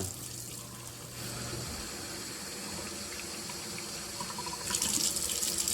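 A kitchen tap runs steadily into a sink at low volume, with a faint hum at first. The hiss of the water brightens toward the end, as if the flow hits something new or grows stronger.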